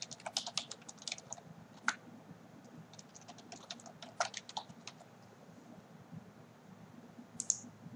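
Typing an email address on a computer keyboard, quick irregular key clicks in short bursts, close but quiet, fading to near silence with a final click, no talk.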